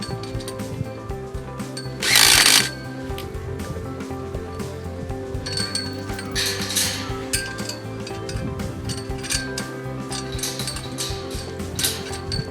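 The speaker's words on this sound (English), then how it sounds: "sliding that over the top to the correct height and fastening it up with our socket" A power tool with a socket drives fasteners to secure a gate latch onto a post, a loud whirring burst early on followed by intermittent metallic clinks and ratcheting clicks at close range.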